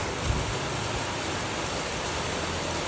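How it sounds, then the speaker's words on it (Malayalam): Heavy rain during a thunderstorm near Puttaparthi, Andhra Pradesh, pours in a dense, steady roar, constant and loud with no breaks. "നല്ല മഴയാണ് അത്യാവശ്യം ഇടിമിന്നലൊക്കെ ഉണ്ട്"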